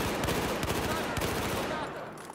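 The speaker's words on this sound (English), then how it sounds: "I was just bursting to take that guy out, which is something you really need to do with this weapon at all but the shortest ranges" Rapid bursts from an AEK 971 assault rifle in Battlefield 4 on PS4, loud and close, with tightly spaced shots rattling over dense game battle noise before tapering off.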